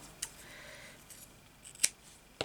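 Scissors snipping embroidery thread during stumpwork needlework, a couple of sharp, quiet snips separated by a pause in an otherwise hushed room.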